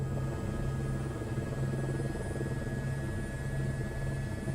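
A helicopter taxiing in Microsoft Flight Simulator 2024, a steady droning rotor and engine rumble with a constant whine, loud and unbroken.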